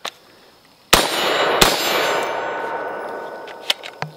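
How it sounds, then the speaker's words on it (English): Two sharp Beretta ARX rifle shots ring out at an outdoor range, each followed by a long metallic ring from the steel target, then smaller clanks fade near the end. "What do you say we shoot some more?"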